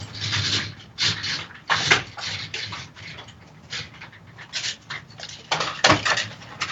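Dogs whimper, pant and shuffle nearby in a room, giving a string of short irregular bursts of whines and breathy sounds.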